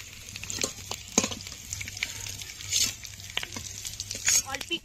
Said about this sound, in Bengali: হলুদ গুঁড়ো, আলুগুলো লাল লাল করে ভেজে নিয়েছি